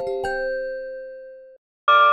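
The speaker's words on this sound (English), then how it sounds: "Next up is the chime bar." A chime bar is struck, giving a bright, bell-like ring like a glockenspiel with a long, slowly fading sustain. A second strike follows after a brief silence.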